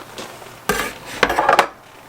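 Knife slicing through a hand-tossed habanero pizza, a few short scraping and clinking strokes against the pan or plate, close and fairly crisp, with no talk.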